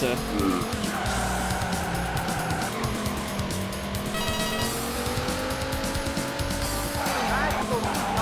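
Daytona USA (Saturn) racing-game car engines roar continuously with rising and falling pitch, punctuated by tire squeals, while a person talks over the gameplay.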